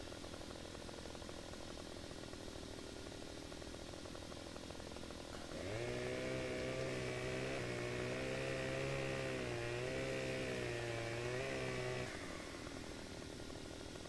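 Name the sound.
chainsaw cutting a tree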